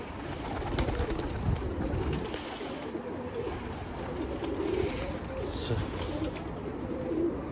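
Pigeons coo steadily at a rooftop pigeon loft, a continuous low murmuring of many birds close by, with faint voices in the background.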